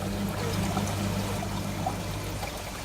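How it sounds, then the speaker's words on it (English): Water steadily pouring and trickling through packed filter media in a homemade koi pond filtration system, a continuous close splashing flow with an even level throughout. "the water's running through this filter media"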